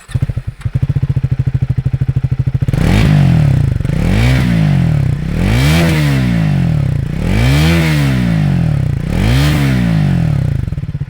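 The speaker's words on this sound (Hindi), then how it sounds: "आपको इसका एग्जॉस्ट नोट सुनाता हूँ" A 2025 Triumph Thruxton 400 motorcycle engine starts with a rapid clatter, then revs up and down in five loud, rhythmic throttle blips close by.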